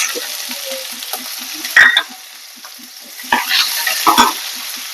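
Tempering seeds, garlic and onion sizzling in hot oil for a cucumber and potato curry: a regular patter of small pops under a hiss, broken by a few sharp stirring scrapes, close up, with no speech.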